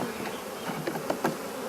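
Honeybees hum steadily around an open hive during a spring inspection, a close, dense buzz with a few individual bees droning louder as they pass near.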